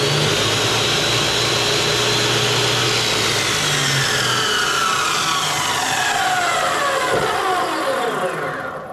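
An abrasive cut-off saw blade spinning up to full RPM: a loud, continuous whining motor roar that rises in pitch and fills the whole stretch, close to the listener, with no speech over it.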